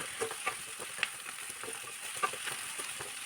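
Green chilli, potato, carrot and beans sautéing in a pan, giving a continuous close sizzle broken by repeated scraping stirs and light utensil taps.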